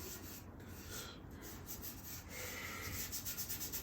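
A bare finger rubs Tru-Oil finish into a wooden gunstock, producing a soft, close, continuous rasping friction in quick repeated strokes, quiet and with no voices.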